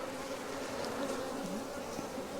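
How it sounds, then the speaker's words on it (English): Honey bees in a newly boxed swarm hum in a continuous, dense buzz, steady and close, with no voices. "That is a new box of bees."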